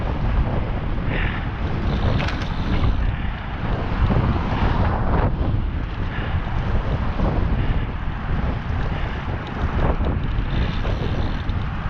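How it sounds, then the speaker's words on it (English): Strong headwind buffets the microphone of a cyclist riding along the coast between Carpinteria and Ventura, a continuous loud rumbling roar with gusty surges throughout and no speech over it. "Boy, the wind, I'm driving into the wind now."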